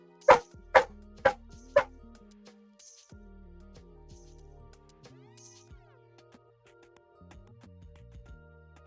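A dog barks four times in quick succession, sharp and close, then falls quiet as a steady background tone continues.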